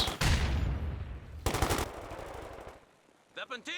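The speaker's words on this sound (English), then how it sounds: "MG suppresses, but paratroopers do manage to crawl in range for a grenade." Machine gun fire in the strategy game Company of Heroes 2 comes as two loud rattling bursts, the second shorter, with a rumbling tail and some brief game sound effects near the end.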